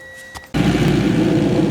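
A Honda-based LS VTEC engine bursts from near silence into a loud, sustained rev as the throttle opens, holding a rough steady roar close by.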